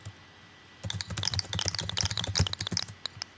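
Quick, crisp key clacks from a writing app's typewriter-style typing sound effect, with a bright snap, starting after a brief quiet and continuing in a busy, uneven run.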